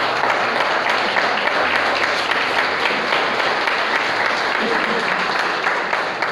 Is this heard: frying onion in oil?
no